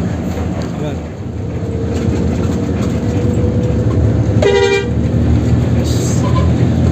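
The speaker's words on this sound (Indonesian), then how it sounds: "Wih, ada klakson nih lu." A short, loud horn blast sounds midway over a continuous rumble of traffic, with people talking nearby aboard a bus.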